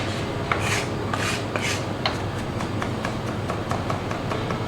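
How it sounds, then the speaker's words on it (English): A kitchen knife rocks back and forth over garlic on a cutting board, a steady run of soft, raspy scraping strokes close by, continuous and unaccompanied by talk. "I'm just going to run the knife backwards and forwards till I get it to a nice small"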